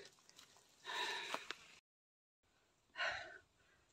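Heavy, breathy panting from a person resting after climbing uphill, coming in two close, ragged bursts separated by a brief silence, with no talking.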